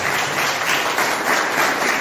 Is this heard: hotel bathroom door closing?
no